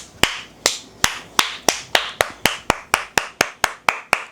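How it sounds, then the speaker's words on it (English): A person claps alone, about a dozen sharp, evenly spaced claps close by in a quiet room. "give yourself a round of applause"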